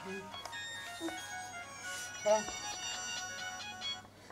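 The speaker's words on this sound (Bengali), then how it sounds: "আমার জানি কারো ফোন দিল" A mobile phone rings with a tinkling electronic melody of repeated tonal notes, fairly soft, while a person talks over it in a comic skit.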